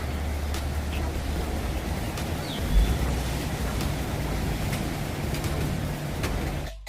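Continuous rush of sea waves breaking against coastal cliffs at Yeongdo, Busan, heard as a broad steady wash with wind, moderately loud and without speech.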